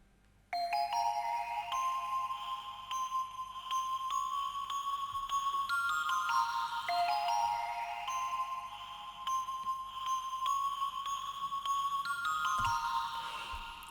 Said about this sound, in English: I've also picked a preset on the keys, which is called Key Sleep Well